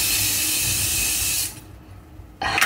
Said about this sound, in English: I'll spray some water